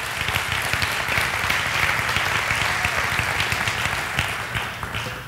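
Church congregation giving a strong round of applause for Jesus Christ, sustained dense clapping from a large crowd, loud and even throughout with a faint low rumble underneath, tapering slightly at the close.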